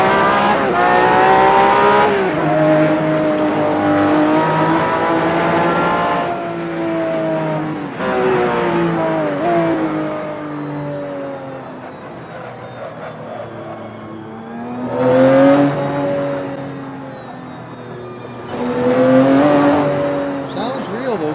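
A Porsche engine revs hard in repeated bursts, its pitch climbing and falling with each throttle blip, loud and close with short pauses between runs.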